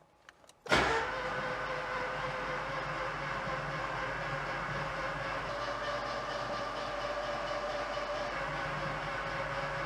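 A Ford Escort Cabrio XR3i engine with no fuel and no spark plugs spins on the starter motor, a steady, even whirring crank kicking in abruptly after a few faint clicks and running on alone.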